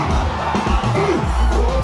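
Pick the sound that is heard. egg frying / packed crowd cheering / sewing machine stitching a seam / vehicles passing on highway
packed crowd cheering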